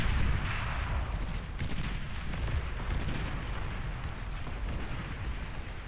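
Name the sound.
long-range artillery fire in the video game Beyond All Reason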